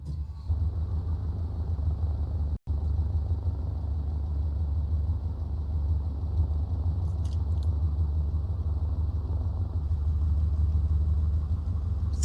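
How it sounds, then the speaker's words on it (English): A FG-1D Corsair piston engine fires up after ignition in a flight simulator, settling into a steady, loud low rumble with a brief dropout early on and faint higher clicks later. "Ignition to start. Here we go."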